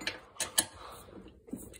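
A wrench snugging down a set of bolts, heard as three or four quiet clicks and metallic ticks spread over about two seconds, close by and faint, with no talking.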